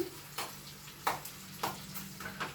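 Mustard seeds and cumin sizzle in hot oil while making raw mango pulihora, a soft steady crackle broken by a few sharp pops and stirring clicks, close and fairly quiet.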